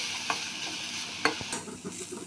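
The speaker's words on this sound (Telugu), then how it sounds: "స్పూన్ నెయ్యి క్యారెట్ తురుముకునేసి బాగా ఫ్రై చేసుకోండి" Grated carrot frying in ghee for sago payasam, a quiet hiss with a few scraping stirs of a spoon against the pan.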